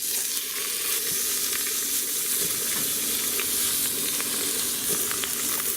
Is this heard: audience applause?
no